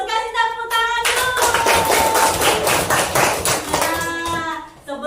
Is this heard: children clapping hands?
yes